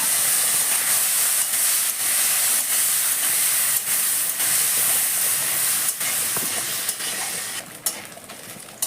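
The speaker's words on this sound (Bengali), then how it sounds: "নারকেলগুলো কুচিয়ে রেখেছিলাম সেগুলোকে আমি এখন ভেজে নিচ্ছি।" Chopped coconut fries in hot oil, giving off a loud, continuous hiss and sizzle that holds steady throughout with a few brief dips near the end.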